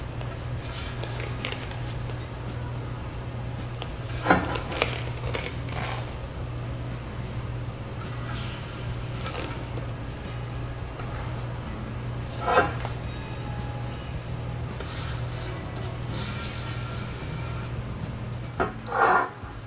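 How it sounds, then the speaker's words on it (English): Foam tape being pressed and smoothed onto the underside of Jeep Gladiator lower extrusions, close up: soft rubbing and peeling sounds with a few sharper crinkles and taps over a steady low hum. "prep the lower extrusions for installation by installing the provided foam tape to the underside"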